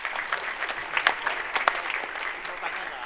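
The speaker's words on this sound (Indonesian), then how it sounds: "Tepuk tangan dong." A church congregation claps during a sermon, a dense continuous round of applause from many hands filling the room, steady throughout with a few sharper claps standing out.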